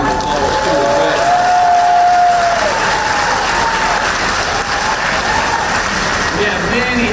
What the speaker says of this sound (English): Let's give Secretary Leffler a big round of applause too as well.